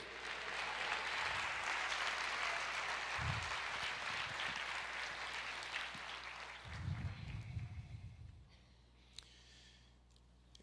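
A church congregation claps, a broad wash of applause that holds for several seconds, then thins out and fades to quiet with a few scattered claps and low murmuring.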